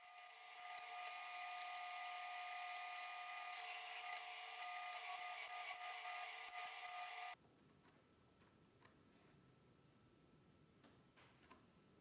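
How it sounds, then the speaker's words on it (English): A 5/8 inch Forstner bit bores holes in wood, giving a steady close whine for several seconds that stops abruptly, leaving a quiet room with faint scattered clicks. "it's a simple matter of upchucking a 5/8 inch Forstner bit and drilling all the holes"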